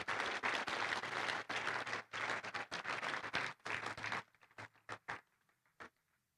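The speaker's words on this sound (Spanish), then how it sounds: "dele aplauso al Señor" Church congregation applauding in a sustained, dense burst of many hands clapping at once, which thins to a few scattered claps and fades out.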